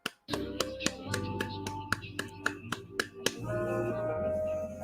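A series of sharp hand claps given as a salute comes in a quick, uneven run of about a dozen crisp hits over a low musical backing.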